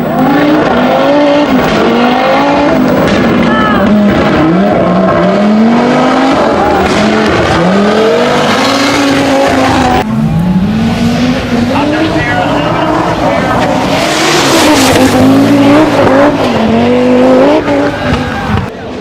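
A Group B era Audi Quattro rally car with a 2.1-liter turbocharged inline-5 and permanent all-wheel drive races loudly, engine revving and shifting through gears in sustained, close passes, with a voice talking over it.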